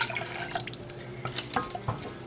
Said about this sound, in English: I'm gonna put in a cup of water